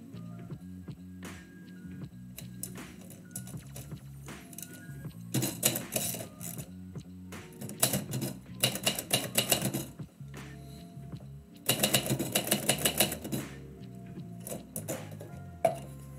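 Manual typewriter keys clatter in fast bursts during live typewritten poetry, dense rapid strikes alternating with short pauses, close and fairly loud, with no one speaking.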